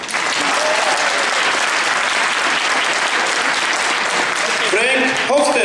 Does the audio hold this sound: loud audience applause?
yes